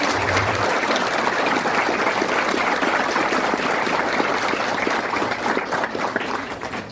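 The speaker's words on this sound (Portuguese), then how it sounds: "Salva de palmas para a Cleusa." Continuous applause rises from the audience at a ceremony reinaugurating a dam, a thick, steady clatter of hands that eases off slightly near the end.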